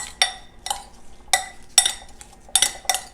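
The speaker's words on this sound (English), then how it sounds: "take the brown sugar and the apple pie spice, put it in the small bowl, and then stir it together" A spoon stirring brown sugar and apple pie spice together in a small bowl, clinking against the sides about seven times in an uneven rhythm, close and crisp, with no talk.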